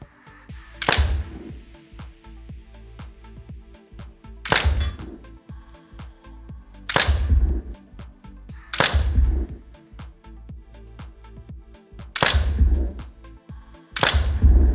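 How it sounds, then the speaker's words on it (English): Training simulator rounds striking steel targets: six loud, sharp reports spaced a couple of seconds apart, each with a booming thump and ringing tail, over a steady low hum. "as you can hear the thumps, it actually registers hits on steel. You can hear the ping, hits that are a miss."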